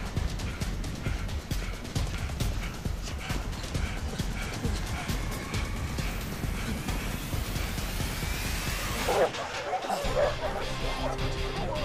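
A hound chasing a runner on an outdoor obstacle course, with barking and rough scuffling mixed into loud continuous movement noise, ending in a sudden crash as the dog reaches a bag.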